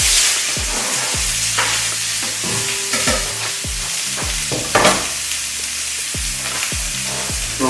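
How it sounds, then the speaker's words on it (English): Chopped Vidalia sweet onion drops into a hot pan for fried rice and sizzles loudly and close, with repeated stirring and scraping clinks over a steady frying hiss. "This is a Vidalia sweet onion. Again, not an overpowering onion. Drop these right in the pan."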